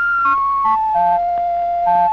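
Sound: Mauch Stereotoner reading aid tones for a small letter V

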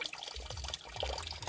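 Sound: spring water flowing at grandparents' old house in Bohol

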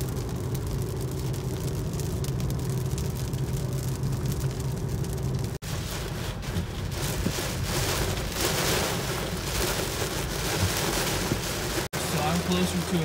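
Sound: heavy rain on car while driving

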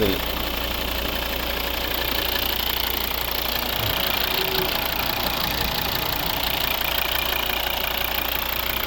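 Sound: Volvo XC70 2.4 D5 diesel engine idling

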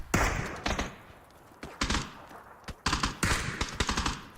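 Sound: gunfire in the video game PUBG

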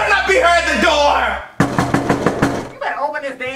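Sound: knocking on a door

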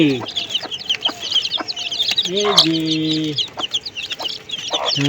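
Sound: chicks clucking on a rooftop garden

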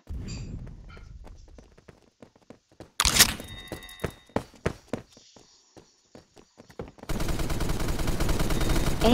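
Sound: shotgun firing in Phantom Forces video game

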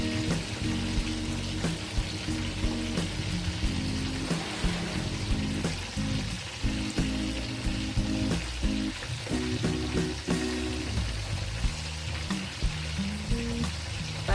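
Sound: fish frying in oil

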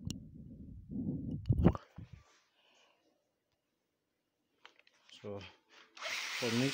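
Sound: power drill mixing

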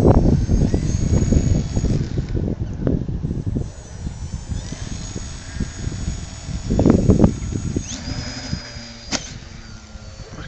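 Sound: wind blowing into the microphone outdoors

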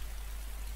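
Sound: rain falling in DayZ video game

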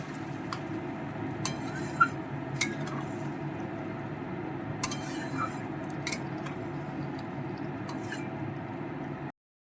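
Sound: stirring potatoes in a pan

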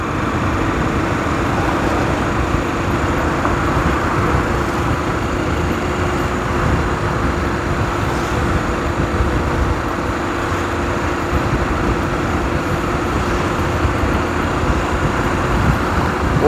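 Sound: heavy car traffic on an avenue

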